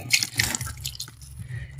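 Water poured onto soil while planting a dwarf coconut palm, heard as a close burst of splashing and dripping that tapers into softer trickles, with no talking.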